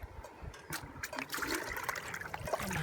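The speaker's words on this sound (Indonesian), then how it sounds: "kita tambahkan lagi airnya biar penuh" Water is poured into a container to top up a mixture for garden balsam plants, a close splashing and trickling flow with some handling clatter.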